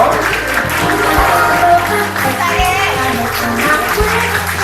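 Applause for a guest of honour's entrance at a party, many hands clapping continuously and fairly loudly, mixed with background music and children's voices.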